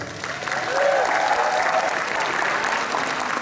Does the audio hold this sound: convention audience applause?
yes